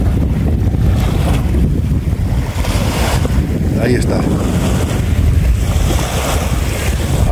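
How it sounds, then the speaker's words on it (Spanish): Small waves lap and splash against the sandy shore of Lake Titicaca on the Llachón peninsula, a steady close wash with wind noise over the microphone and a brief spoken remark. "Hasta pueden escuchar las olas del lago, ¿no?"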